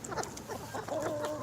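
Backyard chickens clucking while being fed leftover rice and pancakes, a flurry of close, overlapping clucks and soft squawks, moderately loud and continuous, with no speech.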